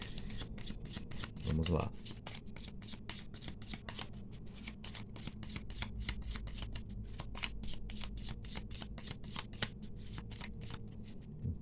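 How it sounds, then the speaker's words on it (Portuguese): A deck of tarot-style cards is shuffled with rapid, crisp riffling clicks that repeat quickly and evenly throughout, close and clear, with a brief spoken phrase near the start. "Então embaralhei aqui suas cartas, fazendo um corte."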